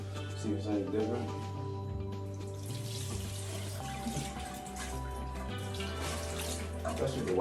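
Hot water runs continuously from a tap onto dirty towels, a steady splashing flow heard close by with a few faint drips.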